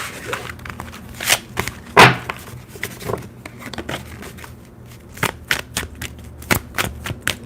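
Tarot cards are shuffled by hand in a series of crisp riffling bursts and soft slaps, close and fairly loud, with brief pauses between passes and no talking.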